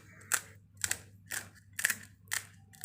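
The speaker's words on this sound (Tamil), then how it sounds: "இப்போ நடுவில் உடச்சி விட்டுக்கலாம்." Freshly fried poori pieces crack and crunch as they are broken apart by hand: five crisp, evenly spaced snaps, close and clear against a quiet kitchen background.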